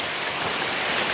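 Rain falls as a steady, even hiss that fills the whole short stretch without pause, close and fairly loud, with no voices.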